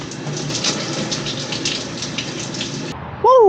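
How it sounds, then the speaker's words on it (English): Shower running in a house bathroom, a steady hissing spray of water for about three seconds that cuts off abruptly, followed by a brief high squeak. "But I'm so excited to take this shower."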